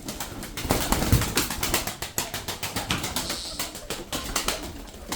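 Tumbler pigeons, a flock of about 35, coo steadily inside a loft, with bursts of wing flapping and scrabbling close to the microphone throughout.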